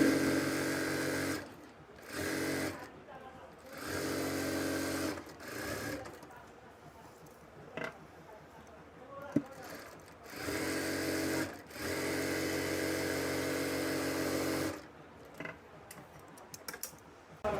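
A domestic sewing machine stitches a palazzo trouser seam with a half-inch fold, running in long steady whirring bursts broken by short pauses. A faint voice speaks during the gaps.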